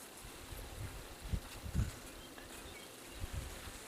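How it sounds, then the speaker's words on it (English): Bees buzzing around a hive outdoors on a cloudy day, a faint, steady insect hum with a few low rustling thumps close to the microphone. "Bees have moved in here nicely"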